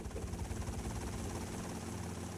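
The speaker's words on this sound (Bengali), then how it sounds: "এই যে হেলিকপ্টার ড্রাইভ করছে" A helicopter flies in GTA Vice City with a steady, loud rotor and engine drone that holds evenly throughout.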